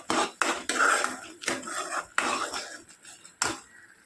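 A spatula scrapes and knocks against a pan while masala is mixed and sautéed on low heat, a string of close, sharp strokes with gaps between them, loudest near the start and tapering off.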